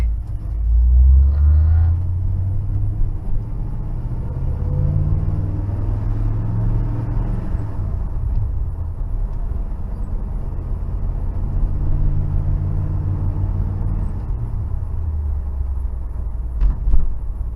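1969 Pontiac Firebird driving with a newly fitted clutch, a steady low engine and road rumble heard from inside, with a rise in revs near the start and a brief knock near the end.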